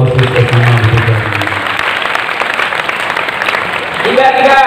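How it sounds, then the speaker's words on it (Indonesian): A crowd at a high school religious gathering applauds the student council, a dense burst of clapping that follows the tail of a man's speech and fades as his voice returns at the end. "tepuk tangan untuk Osis Osama"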